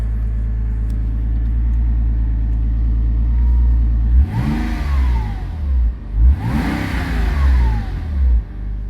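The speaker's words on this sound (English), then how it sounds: "The engine runs really smoothly in this." A Porsche Boxster engine idles smoothly with a steady low rumble, then revs twice in quick rising-and-falling bursts before settling back.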